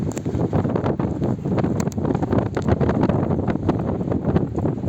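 Strong wind buffets the microphone in a constant low roar, with gusts rising and falling throughout.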